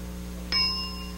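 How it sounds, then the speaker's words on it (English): A single clear bell ding signals the start of a quiz turn on a game show, ringing out sharply and decaying over a steady background hum. "you can start when you hear the bell"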